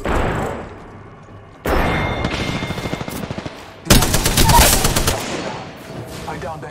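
Gunfire in Apex Legends: loud automatic bursts and sharp shot volleys, close and punchy, with a heavy burst near the middle trailing off, over in-game voice callouts.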